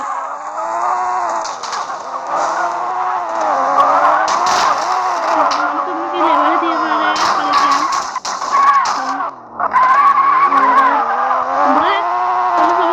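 A Hyundai car in the video game Payback 2 drives with a steady engine drone, rising and falling as it skids and swerves, with a brief dip near the middle, while someone talks over it throughout.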